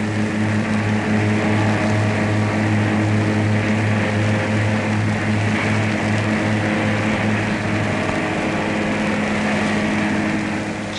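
Peugeot car engine running steadily on a factory test bench at the 1954 Sochaux plant, a loud continuous drone with strong low harmonics and broadband roar, unbroken for the whole stretch.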